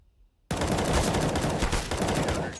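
Rapid gunfire in a competitive online shooter match, a sudden dense burst of automatic shots that starts abruptly after a quiet moment and stays loud and continuous.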